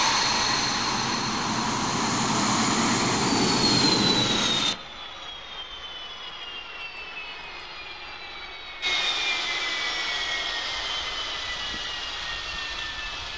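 Mirage 2000C jet engine idles with a steady roar and a high whine in a DCS World flight simulator, cutting abruptly to a quieter cockpit tone, then swelling again.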